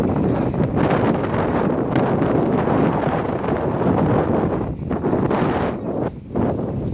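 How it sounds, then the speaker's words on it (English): Strong wind roars steadily across an exposed spot five stories up on a building facade, buffeting the microphone loudly and almost without pause, with a brief lull near the end. "And that wind's ripping, man."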